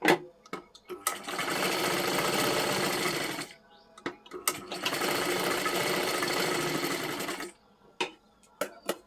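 A sewing machine runs a double line of stitching on a blouse in two long, steady bursts of buzzing, with a short pause between them and clicks of handling before and after.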